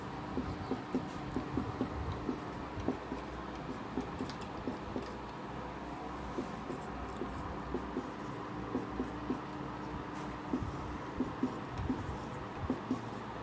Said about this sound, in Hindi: आपके सामने मैंने ये अंग्रेजी वर्णमाला लिख दी है